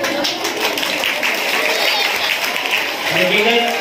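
Seminar audience applauds in a sustained burst of clapping, with a voice speaking over it near the end.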